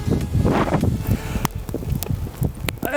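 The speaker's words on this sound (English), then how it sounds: "It's a bit windy." Gusty wind buffeting the microphone outdoors during a snowstorm, rough rumbling bursts with a few sharp knocks and rustles, no talking.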